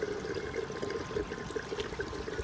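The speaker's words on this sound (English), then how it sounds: "You can see some of it's going back down the drain." Leftover water in an emptied deep water culture aquaponics bed trickles and gurgles down the drain, a soft, steady liquid burble heard close up with no talking.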